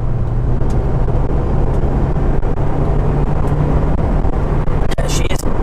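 A Honda S2000 being driven on a winding road, with a steady loud low engine drone and road rumble throughout, interior-mic perspective with wind noise and a brief sharper burst near the end.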